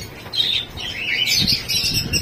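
Birds in an aviary, including parakeets, chirp and tweet in a busy chorus, high calls overlapping continuously, with a low background hum beneath.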